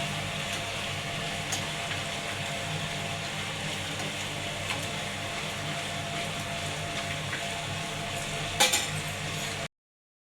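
Masala vada lentil fritters frying in hot oil give a steady, even sizzling hiss at close range, with an occasional faint clink near the end before it cuts to silence.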